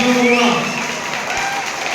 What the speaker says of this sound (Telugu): అందరం కూడా చప్పట్ల ద్వారా వారి విజయాన్ని కాంక్షించి